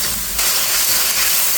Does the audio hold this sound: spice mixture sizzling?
yes